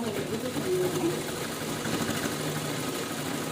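A sewing machine stitches a two-colour purse, running in one steady, continuous mechanical whir for the whole stretch without pauses.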